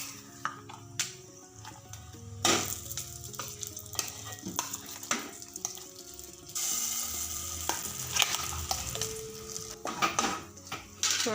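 Curry leaves frying in a pan for papaya pachadi, crackling and sizzling up close while a utensil stirs and scrapes with repeated clinks against the pan, no voices.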